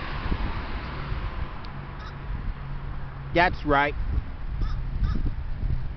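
A crow perched on a power line outdoors gives two odd, rapid warbling caws close together, set over steady outdoor background noise with a voice speaking briefly.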